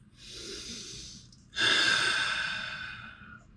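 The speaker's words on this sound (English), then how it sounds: "Take a deep breath." One person takes a deep breath, first a long inhale through the nose and then a stronger, breathy exhale that fades slowly, close and clear with no talking.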